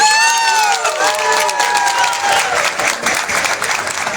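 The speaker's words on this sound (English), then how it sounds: "How about a real round of applause for the next generation of the folklore dancers?" A festival audience applauds and cheers loudly for junior folklore dancers, with dense clapping mixed with high whistles and shouts, sustained and close throughout.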